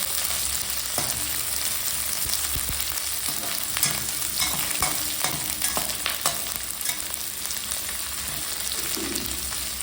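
Onions fry in a pan for vegetable dum biryani, sending out a loud, constant sizzle close up, with scraping stirs and clatters scattered through it and no speech.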